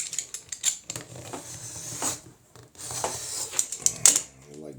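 Scissors snip through fabric for handmade journals in quick, crisp clicks and rustles, close up and fairly quiet, with short pauses between cuts.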